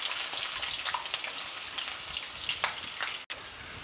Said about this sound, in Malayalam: ഒരു ചുവപ്പ് കളർ വരുന്നവരെ നമുക്കിത് നല്ലതായിട്ടൊന്ന് വഴറ്റി കൊടുക്കാം.